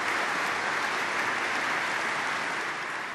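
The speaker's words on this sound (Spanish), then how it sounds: "El aplauso lo iniciaron las religiosas" Loud, sustained applause from a large crowd at a papal event during Pope Francis's trip to Budapest and Slovakia, begun by nuns; a thick, unbroken roar of clapping with no speech.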